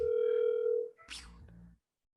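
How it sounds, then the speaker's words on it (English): A telephone dial tone hums steadily for under a second as a call is placed, then cuts off, followed by a brief faint rustle before silence. "I'm gonna call Kelly, our booking and PR person here."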